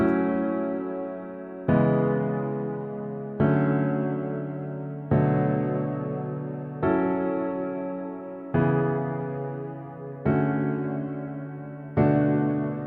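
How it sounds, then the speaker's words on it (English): A sustained synth chord progression, eight evenly spaced chords each struck and left to decay, with warm low and mid tones and no voices. "And now we have the chord progression that sounds like this."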